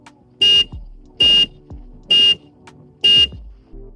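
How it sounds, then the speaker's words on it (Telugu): Four short, loud horn blasts from a new Bajaj Pulsar NS400Z motorcycle at an even pace, each a sharp buzzy honk separated by brief pauses, close to the listener. "సో చాలా లౌడ్ హార్న్ ప్రొవైడ్ చేస్తున్నారు"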